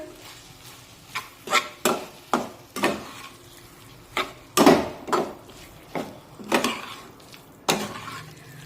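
A spoon stirs roasted peanut powder into dry brinjal curry in a pan, making a series of sharp scraping strokes at an irregular rhythm, close and clear over a faint background hiss.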